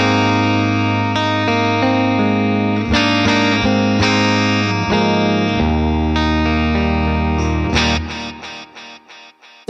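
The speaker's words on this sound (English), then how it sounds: "That's a great sounding delay." Distorted electric guitar chords ring out with ping pong delay echoes bouncing back, ending in a rhythmic series of fading delayed stabs, through a Blackstar St James amp plugin.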